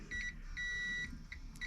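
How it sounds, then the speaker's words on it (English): Refrigerator power pack with no power sounding repeated electronic beeps: a short pair, one long tone, then more short chirps, clear over a steady background hum. "it's going to beep at us in a second to tell us that it doesn't have any power"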